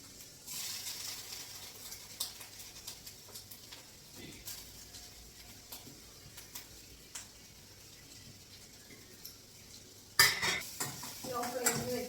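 Grated coconut with fenugreek is roasted in a pan on low flame, with a soft background sizzle and scattered scraping clicks from a stirring utensil. A louder burst of stirring and clatter comes near the end.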